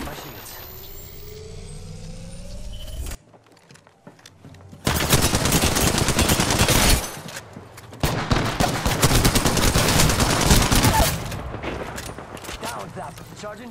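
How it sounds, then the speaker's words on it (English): Video game gunfire comes in long rapid automatic bursts, loud and dense, separated by a quiet gap and pauses, with mechanical whines before the shooting starts. "Yeah, getting shot at."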